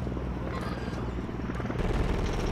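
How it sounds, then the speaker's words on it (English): Helicopters in the video game Call of Duty MWIII, a loud, steady low rotor drone with dense rumbling and faint gunfire-like crackle throughout, no voices. "Two helicopters."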